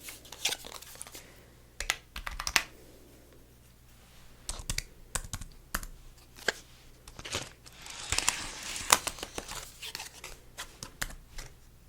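A computer keyboard at a salon checkout counter is typed on in quiet, close bursts of clicking keystrokes separated by short pauses, with a denser flurry near the end.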